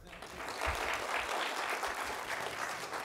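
An audience at a stock market seminar claps in a short burst of applause, dense and fairly loud, holding steady for a few seconds.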